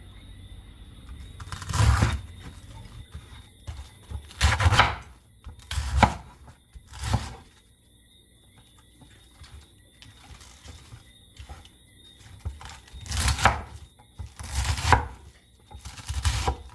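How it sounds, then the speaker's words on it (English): A knife chops cabbage into bite-sized pieces on a board, in separate bursts of quick, crisp, near chopping strokes divided by quiet pauses, with no talk. "And then I'm gonna cut this cabbage in bite-sized pieces."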